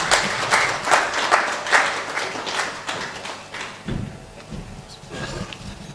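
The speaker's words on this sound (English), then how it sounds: "A round of applause for him, please." Applause from the audience at the official launch of Ghana's EMIs Chamber, loud rhythmic clapping that fades and then swells again as the crowd keeps going.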